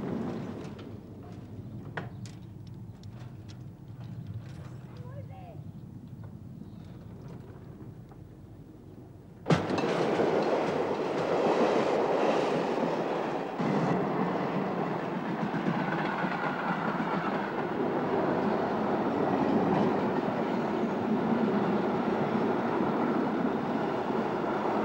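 A train runs through a railway station in 1973, starting as a low distant rumble, then swelling abruptly into a loud, sustained roar of wheels and carriages rolling past.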